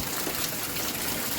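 Rain falling steadily during a downpour in the UAE, water trickling into a house, heard as a close, continuous hiss and patter without any voices.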